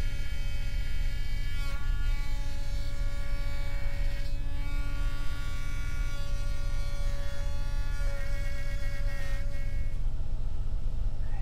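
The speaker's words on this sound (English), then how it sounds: "we use a straight bit and remove the material between the angled fingers to create a socket for the dovetail" A router with a straight bit cuts dovetail sockets in oak for a blanket chest, giving a steady high-pitched electric whine with a low hum underneath, loud and continuous, pitch dipping slightly as it bites.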